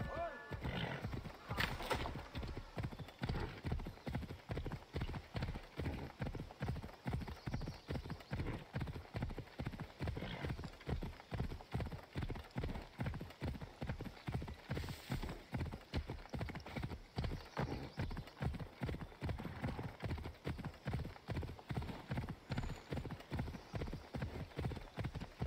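Horses ride along in a steady, rhythmic clip-clop of hooves that lasts throughout, with a whinny heard now and then and voices in the background.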